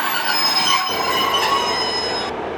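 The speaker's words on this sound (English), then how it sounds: "incoming now is a Class 150 Northern Rail service to Nottingham from Leeds" A Class 150 diesel train close by at Chesterfield station with steady wheel squeal and rumbling, a high whine running over the noise of the carriages moving through.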